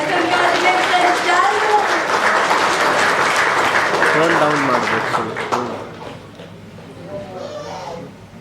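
A crowd at a Kannada film success meet applauds: loud, dense, sustained clapping that carries a voice over it and then fades after about five seconds, leaving the talk.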